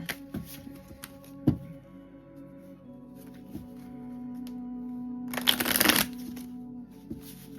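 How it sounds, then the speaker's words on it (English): Tarot cards being shuffled close by, soft riffling with a few sharp taps, then a loud burst of rapid riffling near the end over a faint hum. "I can never quite get it right when I'm shuffling with these cards"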